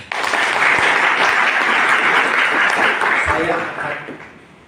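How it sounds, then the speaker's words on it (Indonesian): An audience at a gathering of honorary teachers bursts into loud, dense applause that swells quickly, holds steady, then tapers off toward the end, with faint voices mixed in. "Tepuk tangan."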